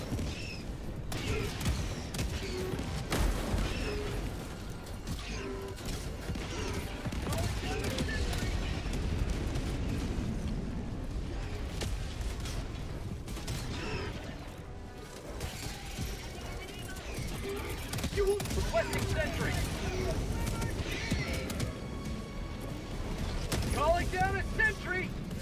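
Rapid bursts of sentry turret gunfire and mechanical clatter in a video game fire repeatedly alongside sharp impacts and shattering, loud and busy throughout, with a voice talking over it.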